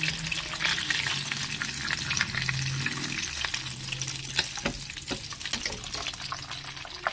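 Potato cheese balls deep-fry in hot oil in a batch of five or six, giving a steady bubbling hiss punctuated by sharp scattered crackles and pops, close up and without talk.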